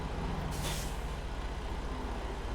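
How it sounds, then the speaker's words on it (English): A semi truck's parking brake releases with a short burst of air in American Truck Simulator, a sharp hiss around mid-clip over a steady low engine idle. "It's not the button I want to hit, but that's the parking brake for another game."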